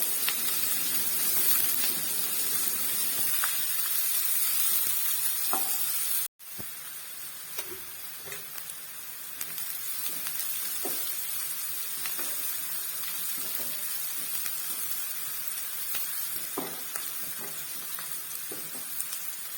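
Onions and salt sautéing in a pan as the base of a tuna fish curry, giving a constant close sizzle and hiss with scattered light spatula scrapes and a brief cut-out near the middle.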